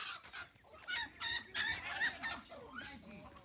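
A rooster and chickens on a rural farm, a series of fairly faint clucks and squawks in irregular bursts, with no talking.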